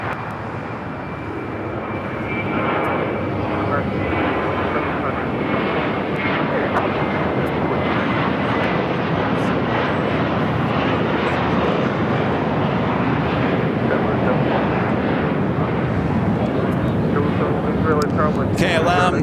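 An Eastern airliner taxis toward busy runway 25 right at LAX, its engines roaring loud and steady throughout, swelling slightly after the first couple of seconds.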